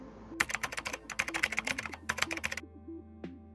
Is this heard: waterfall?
no